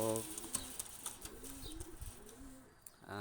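Pakistani high-flyer pigeons coo in low, steady murmurs close by, with a few soft wing flaps and rustles breaking in.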